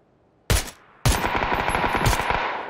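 M4 assault rifle fire in PUBG: a short burst, a brief pause, then a sustained loud automatic stream of rapid close shots.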